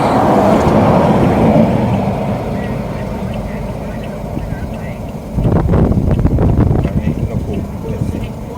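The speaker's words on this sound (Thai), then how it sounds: "เสียงมันจะแบบ รัวๆเหมือนเหมือนมีอะไรแตกๆกับท่อแตก รถมีปัญหากับแคทนะ" A rattling exhaust from an MG3 first-generation car with a failing catalytic converter, engine idling steadily, then a rougher burst of rapid crackling pulses joins midway, all close and loud while people talk over it.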